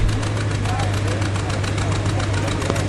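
An old John Deere tractor with steel wheels chugs loudly and rhythmically under load at a vintage tractor pull, a heavy steady beat with mechanical rattle, close by.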